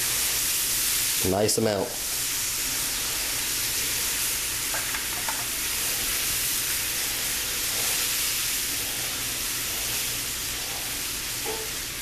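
Milk poured into a hot pan for country white gravy sets off a steady, loud sizzle and hiss that continues throughout, with a brief spoken remark near the start.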